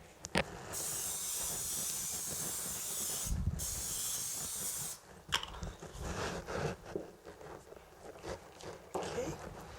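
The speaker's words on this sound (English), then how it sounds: "our canola oil to spray our griddle iron" Canola oil sprays onto a hot griddle iron in a long, loud steady hiss of about five seconds, followed by a shorter burst of spray and sizzling crackle with light handling clatter.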